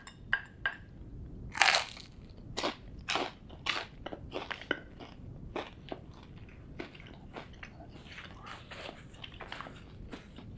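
Crunchy bites and chewing of buttered toast spread with Reese's creamy peanut butter, heard up close as a series of crisp crackling crunches spaced irregularly, with no talking.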